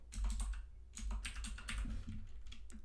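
Close, quiet clatter of typing on a computer keyboard, quick irregular bursts of keystrokes with short pauses between them, with no voices.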